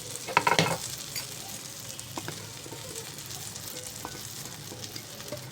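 Vegetables sauté in a pan, a utensil scraping and stirring briefly at first, then a steady, soft sizzle continuing underneath.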